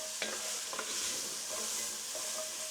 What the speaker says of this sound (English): And our carrots going in now as well. So basically, we're going to fry these off